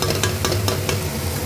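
Red amaranth leaves fry in a pan with a steady close sizzle, broken by a few soft, evenly spaced stirring strokes over about a second and a half.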